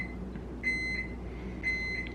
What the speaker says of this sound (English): Listen to that microwave.